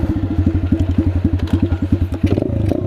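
Small Chinese dirt bike engine chugging in fast, even pulses held steady on the throttle during a wheelie, close and loud, the beat quickening and roughening toward the end.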